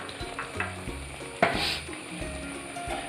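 A spoon stirs chilli powder and salt through a sizzling mixture in a pan while cooking Onam koottukari, with soft frying hiss, scraping strokes and a sharp clink of metal against the pan partway through.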